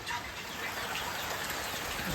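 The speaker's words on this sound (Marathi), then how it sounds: "बघा पाऊस बघा किती तुफान चालू आहे" Heavy village rain storm pouring down as a steady, dense wash of broadband hiss that holds even and loud-moderate for the whole moment, with no voices.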